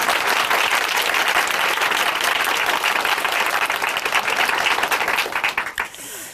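A church audience in a Korean Christian testimony broadcast claps in loud, sustained applause, a thick roar of many hands that holds steady and then tapers off near the end.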